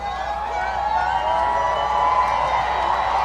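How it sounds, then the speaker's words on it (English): Distant crowd cheering and whooping at an outdoor event as a presidential plane flies overhead, a broad steady roar of voices with a low engine-like hum underneath, no clear individual words. "Listen to the crowd as President Trump flies over."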